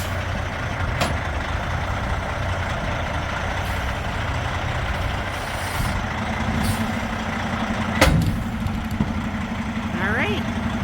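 A semi truck idles nearby while pulling forward to release from its fifth wheel, a steady low engine rumble broken by a sharp air brake hiss near the end.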